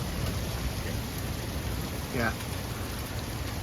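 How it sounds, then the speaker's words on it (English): Heavy storm rain pounding down in strong winds, a dense, loud, unbroken roar of drops from start to finish, with a brief murmured voice midway. "look at the rain right now"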